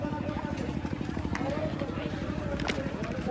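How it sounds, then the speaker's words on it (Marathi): Two horses pulling carts, their hooves clip-clopping in a steady rapid rhythm close by, with voices talking over the hoofbeats. "2 घोडे गाड्या घेऊन चालले"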